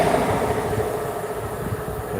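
Trains passing close by a station, a loud, continuous roar and rumble that holds steady throughout with no voices over it.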